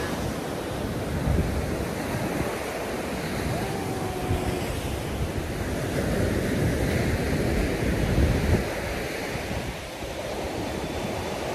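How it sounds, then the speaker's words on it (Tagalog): Strong ocean surf at Nha Trang beach in Vietnam, a continuous loud roar of breaking waves mixed with wind buffeting the microphone, with gentle swells in intensity. "Hindi ako maliligo kasi ang lakas ng alon."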